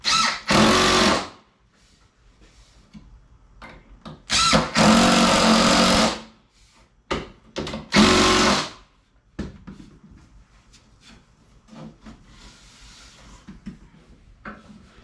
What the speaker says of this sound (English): I'll pre-drill the other side, put both the screws in